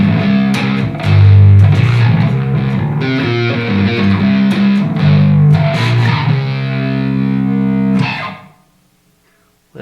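A bass guitar plays through a Fender Mustang Micro Plus on its Dirty Flanger preset. Gritty, distorted notes swirl with a sweeping flange. The phrase runs steadily and stops abruptly near the end into a brief silence.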